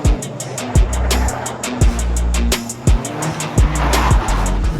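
A 2024 Toyota GR Corolla powers out of a corner, its engine note steady and strong, with sharp clicking bursts repeating at regular intervals.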